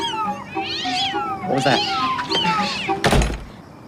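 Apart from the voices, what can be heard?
cats meowing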